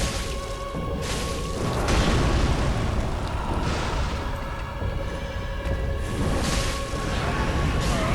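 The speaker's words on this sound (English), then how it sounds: "Oh, I ran right into the freaking explosion." A loud, rumbling explosion in the video game Dark Souls 3 fills the scene with dense, sustained booming bursts and crackling that swell and fade over several seconds.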